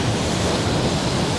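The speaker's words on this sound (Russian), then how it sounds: "Смотришь, как вздымается пена от воды, которая налетает на берег." Storm waves crash steadily onto a beach at Anapa in a violent storm, a loud, continuous roar of surf and churning foam with wind buffeting the microphone, no voices.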